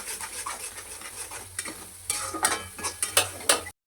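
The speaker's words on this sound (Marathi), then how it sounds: "ते पण तेल सुटूस्तवर ह्याला भाजून घ्यायचं चांगलं, मसाला जळत नाही." Masala roasting in oil in a pan, a continuous soft sizzle broken by repeated scraping stirs that grow louder and more frequent toward the end.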